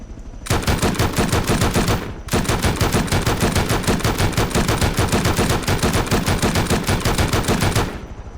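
Attack helicopter in the video game Rust unleashing a rocket barrage: a loud, rapid, unbroken stream of blasts that pauses briefly once, then resumes and rolls on for several more seconds before cutting off.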